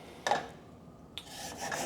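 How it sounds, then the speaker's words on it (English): Food rasped against a kitchen grater in two short bursts, close and fairly quiet, with a scratchy rubbing texture and brief pauses between strokes. "gonna grate it until I feel like I got 1 inch off of this"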